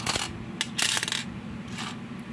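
Several coins drop and clatter onto a hard surface in quick bursts, bright metallic jingles with short gaps between handling sounds, close and fairly loud with no talking.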